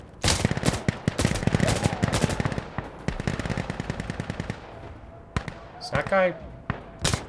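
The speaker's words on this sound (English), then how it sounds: "That's single fire." Single-fire gunshots in the tactical shooter Insurgency Sandstorm: a few sharp, separate cracks in the last couple of seconds, after stretches of talking and busy game noise.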